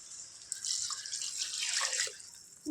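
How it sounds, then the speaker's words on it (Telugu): About half a litre of water pours steadily into a cooking pot for about two seconds, a bright close splashing rush that rises and then tapers off. "ఇందులో నేను ఒక హాఫ్ లీటర్ వాటర్ యాడ్ చేస్తాను"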